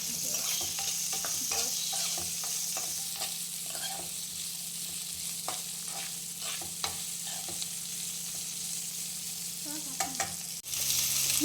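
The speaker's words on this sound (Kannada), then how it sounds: "ಈರುಳ್ಳಿ ಬೆಳ್ಳುಳ್ಳಿ ಆ್ಯಡ್ ಮಾಡಿಕೊಂಡು ಅದನ್ನು ಸ್ವಲ್ಪ ಕಲರ್ ಚೇಂಜ್ ಆಗೋ ತನಕ ಹುರ್ಕೊಂಡು ನೆಕ್ಸ್ಟು ಸ್ವಲ್ಪ ಕರಿಬೇವಿನ ಸೊಪ್ಪು ಹಾಕ್ಕೊಂಡು ಇದನ್ನು ಸ್ವಲ್ಪ ಹೊತ್ತು ಹುರ್ಕೋಬೇಕು." Onion, garlic and curry leaves frying in a pan for majjige sambar, with a continuous soft sizzle broken by frequent clinks and scrapes of a spoon stirring, heard up close.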